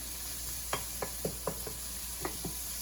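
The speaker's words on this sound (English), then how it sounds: "Once this is 3/4 done, you can see the sizzling sound" Onions half-cooking in a pan for a spicy Indian omelette, a soft steady sizzle under a run of about eight light stirring clicks and scrapes from a utensil, close and fairly quiet, with no talking.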